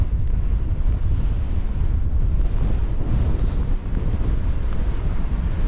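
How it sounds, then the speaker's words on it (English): Strong, steady wind roars across an exposed hill in the Scottish Borders, a continuous low buffeting rush that blasts the microphone throughout with no let-up. "Oh, just to get out that wind."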